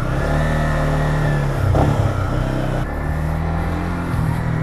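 A Yamaha MT-15 150cc motorcycle with stock exhaust pulls away in first gear, its engine droning steadily close by with a brief surge in revs midway, no voices over it.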